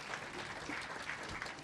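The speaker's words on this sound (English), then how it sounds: "Everybody give them a hand." Brief, steady applause from a meeting audience, a dense wash of clapping without distinct individual claps.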